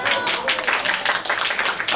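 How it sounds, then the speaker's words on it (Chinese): Children and an audience applaud a tied contest during a hands-on science activity. The applause is a thick, steady wash of clapping throughout. "鼓掌一下"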